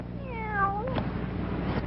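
A black cat meows in a single drawn-out, falling cry, close and clear, over a steady low background hum.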